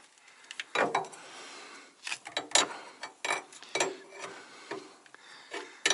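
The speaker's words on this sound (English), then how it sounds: "And you just tighten this nut down" A nut being tightened onto a compression fitting on a hose, heard as a series of close, irregular metallic scrapes and clicks from a wrench or hand turning, with quiet gaps between them.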